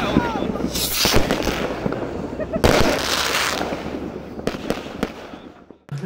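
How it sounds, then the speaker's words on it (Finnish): New Year fireworks explode outdoors in a continuous barrage, with loud overlapping bangs and crackling bursts, some near and some farther off, and voices faintly audible beneath them. "Oli ihan sairaan hieno ilotulitus."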